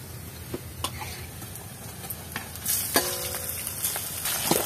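Shrimp stir-frying with browned onion and chilli over a clay stove, a low sizzle broken by scattered scrapes and clacks of a spatula against the pan, a few sharper knocks near the end.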